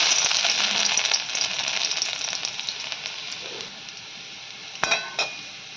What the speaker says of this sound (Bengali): তেলটা গরম হয়ে গেছে, সর্বপ্রথম দিয়ে দেবো আমি রসুন কুচি।